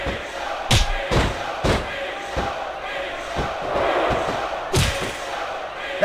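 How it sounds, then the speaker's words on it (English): A capacity arena crowd in the WWE Smackdown vs Raw 2006 wrestling video game roars steadily, broken by heavy thuds and slams of bodies hitting the mat, loud and reverberant, with voices in the mix. "It sounds like this capacity crowd has something on their minds, Taz."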